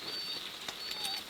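Steady rain falls in an Ontario outdoor setting along the Lake Superior coastline, a soft constant patter at low volume with faint scattered drips and a thin high bird note in the background, no talking.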